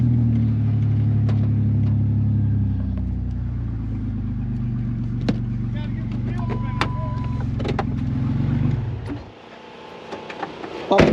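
A car engine held at high revs with the wheels spinning during practice at the Freedom Factory, a loud steady roar that cuts off sharply near the end, with people talking over it.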